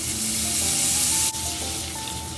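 Minced garlic frying in butter in a wok, giving a steady, close, hissing sizzle that carries on evenly throughout, with a brief stir-like scrape midway and no talk.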